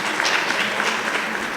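Steady audience applause at a university cultural conference, a continuous wash of many hands clapping at even loudness for a short stretch.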